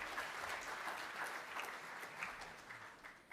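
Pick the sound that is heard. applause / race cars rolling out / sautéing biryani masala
applause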